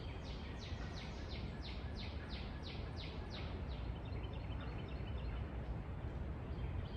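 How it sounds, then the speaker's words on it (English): Birds call through the piney woods of deep East Texas, a quick series of high chirps repeating for a few seconds, then fainter scattered calls over a steady wash of forest background noise. "You can hear the birds everywhere."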